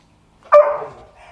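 A single loud dog bark, close by and sharp, at a racing event, with a brief fading tail and no other sounds around it.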